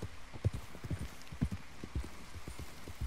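Horse hooves clip-clop in a steady, uneven rhythm in Red Dead Redemption 2, quiet and close, with no voices.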